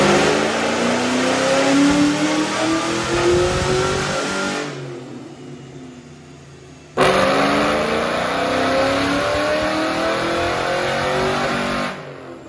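A Cobra fitted with a 2.2-litre Kenne Bell supercharger revs hard on a dyno, rising in pitch for several seconds, dropping off, then climbing again in a second loud, sustained pull before cutting out.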